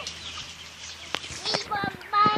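A chicken clucks in short bursts amid rustling and handling noises, with people talking nearby.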